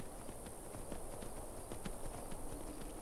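Horse hooves clip-clop steadily in the video game Skyrim, a quiet, even walking rhythm over a constant low ambient bed, with no voices.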